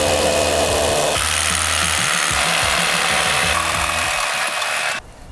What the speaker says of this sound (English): we're gonna drill and anchor this to our concrete pad.